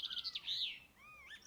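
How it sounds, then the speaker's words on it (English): Bird song at moderate distance, a quick series of bright chirps followed by rising and falling whistled notes, clear against a quiet background. "Birdsong."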